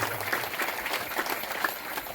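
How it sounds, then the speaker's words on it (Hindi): An audience claps together at a district-level Tulsi Jayanti ceremony, giving a dense, continuous patter of applause from a crowd of guests that lasts about two seconds. "समस्त अतिथि लोग जोरदार मैं ताली चाहूंगा।"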